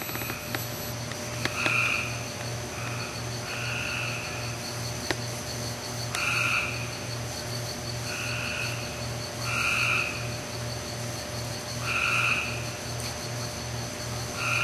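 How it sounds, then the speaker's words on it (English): A steady chorus of frogs calling: rapid, regular low pulsing croaks beneath repeated higher trilling calls, with a constant insect-like hum in the background. "all that's left now are the frogs"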